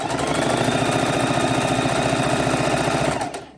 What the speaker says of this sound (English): We're going to hold our thread as we start, lock our stitch, and we're going to sew it all the way to the corner.